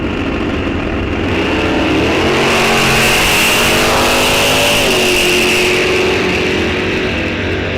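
A Ford Mustang and a Chevrolet Camaro launch side by side in a drag race at Rock Falls Raceway, their engines roaring loud and close with rising revs and a gear change partway through.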